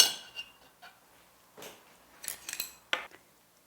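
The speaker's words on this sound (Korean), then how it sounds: "네, 이제 접시에 담아 보겠습니다" Light clinks and soft taps of utensils against a plate as sliced boiled pork belly is placed on it, a few scattered knocks and scrapes close by, with quiet pauses between them.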